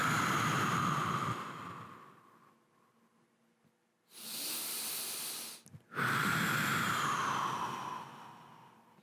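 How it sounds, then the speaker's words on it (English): Deep, slow breaths during a mat exercise class with ankle weights: a long exhale, a pause, then a forceful hissing inhale and another drawn-out exhale, close and breathy. "Breathe deeply."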